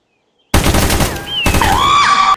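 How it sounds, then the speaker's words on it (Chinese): Bursts of automatic gunfire in a Chinese-language shooter video game, a loud dense burst starting abruptly and running for about two seconds with a short break, while higher tonal game sound effects layer on top. "大老远就听到枪声了"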